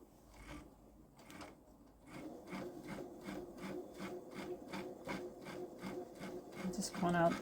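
Babylock Solaris sewing machine quilting stitches around a pumpkin on a pillow front, starting with a few slow stitches then settling into a steady rapid rhythmic chatter of the needle, close and moderately quiet, with a brief voice near the end.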